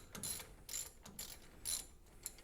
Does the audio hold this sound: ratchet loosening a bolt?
yes